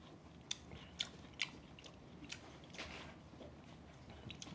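Fresh fruit from a home garden being bitten and chewed close up, a few crisp bites followed by soft, wet chewing, quiet and with no talking.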